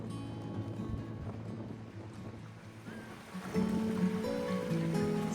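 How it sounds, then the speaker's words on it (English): Strong, gusty wind blowing outdoors at a riverside dipnetting spot in Chitina, Alaska, a steady broadband rush that swells louder in the last couple of seconds, with no talking. "The wind is blowing so hard"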